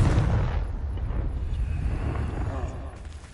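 A Confringo spell detonates in a wizarding video game, a loud rumbling blast at the start that rolls off into a long, fading roar.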